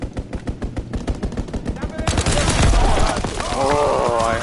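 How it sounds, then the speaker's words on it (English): Rapid bursts of machine gun fire from a strafing run in Call of Duty WW2, loud and continuous, building into a dense, roaring barrage with explosive rumble toward the end. "Strafing run inbound."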